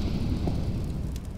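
Incendiary grenade going off in Counter-Strike: Global Offensive, a brief low roaring whoosh of flame with crackling noise, steady and fairly loud with no voices.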